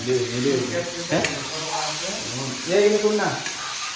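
Meat fries in a home kitchen pan, giving off a steady sizzle and hiss under a voice as he talks through the cooking.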